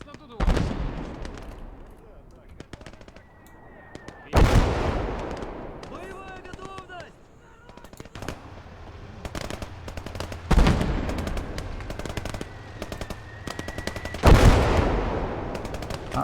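Mortar fire in a World War II battle video game, heavy booming impacts recurring every few seconds amid scattered rapid small-arms fire and distant battle noise, with brief tonal game sounds between.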